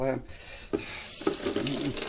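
Water splashes from a tap in short, uneven gushes, close but fairly quiet, with faint noise and clatter around it.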